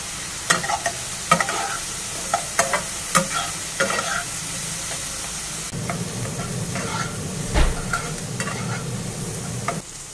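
Steady sizzling of peanuts frying in a pan, broken by sharp scraping clicks of a spoon stirring at irregular intervals, close by.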